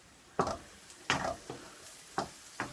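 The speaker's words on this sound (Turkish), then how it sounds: "Soğanlarımı koydum şöyle. Kavuruyorum." Onions sauté, sizzling and crackling in a hot pan, with several sharp stirring scrapes over a steady background hiss, while making karnıyarık.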